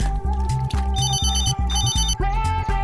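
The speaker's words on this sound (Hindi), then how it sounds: "हेलो कार्तिक, बोलो कैसे फोन किया?" A telephone rings in repeated rapid electronic trills, loud and close, with no talk over it.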